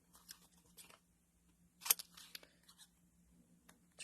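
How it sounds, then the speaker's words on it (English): Scissors trimming card paper while a handmade birthday card is assembled, giving a few quiet, sparse snips and crisp cuts in a near-silent room. "And then just take scissors."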